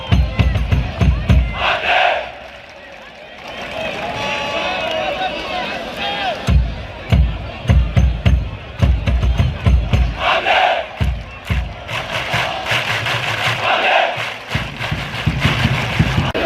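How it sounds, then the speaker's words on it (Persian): A football match crowd cheers and chants loudly in rhythmic bursts, rising and falling over about sixteen seconds. Someone talks in the foreground over the roar. "آقا صادق اینا دارن تشویق میکنن"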